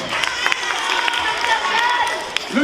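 Audience applause for a doctor at a live comedy show, a crowd clapping with scattered sharp claps standing out, voices mixed in through the room.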